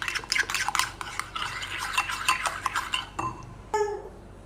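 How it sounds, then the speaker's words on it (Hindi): A spoon stirring a cream mixture in a bowl for homemade ice cream, scraping and clinking in steady close strokes, then pausing before a couple of sharper taps near the end. "इसे करेंगे अच्छे से मिक्स। चम्मच की मदद से कर लेंगे।"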